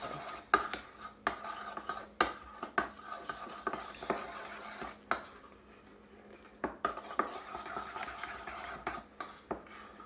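Metal utensil scraping and tapping around a bowl while mixing a seasoned bacon taco sauce, a steady run of close, irregular clinks and stirring strokes with no talking.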